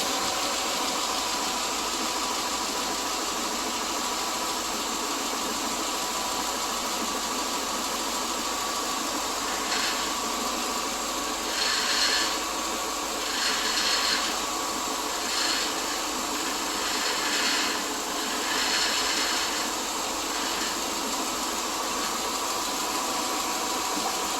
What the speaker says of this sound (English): That rattles, something in the exhaust, some dealing with the exhaust, rattling around.